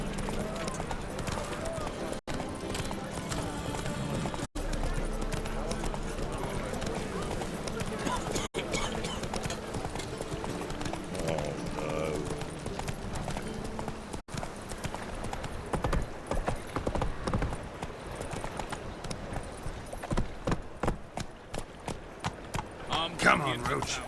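Steady, rhythmic hoofbeats of a ridden horse in The Witcher 3 run through the whole stretch, under a bed of game sound and voices.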